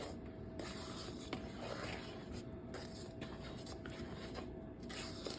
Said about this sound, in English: We're just going to gently fold this all in.